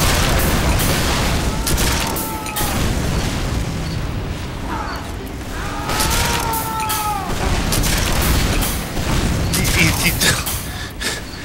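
Rockets and a crossbow fire amid Team Fortress 2 combat, repeated booming blasts and sharp bursts scattered across the stretch alongside gunfire, with a voice talking over the action.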